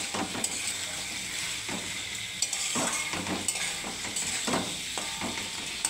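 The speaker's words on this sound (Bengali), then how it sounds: "এখন আমি এখানে দিয়ে দেবো ভেজে রাখা পনিরটাকে আমি মশলার সাথে মিশিয়ে নেব।" Fried paneer is stirred with spices in a pan, giving a soft continuous sizzle broken by repeated spatula scrapes and clinks at an uneven rhythm, no talking.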